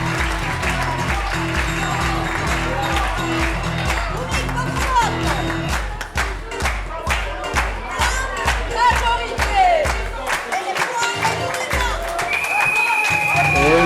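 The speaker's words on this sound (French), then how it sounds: "On les applaudit bien fort, s'il vous plaît." A lively audience at a national improv theatre final claps loudly and steadily, with cheering and whoops, over background music that fades partway through.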